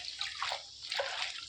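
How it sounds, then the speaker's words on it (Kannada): Water is poured into a cooking pot in a home kitchen, a steady rushing splash that swells and eases across the short stretch, fairly faint and without any voices. "ಒಂಜಿ ತಪಲೆಡು ನೀರು ದೀತೆ"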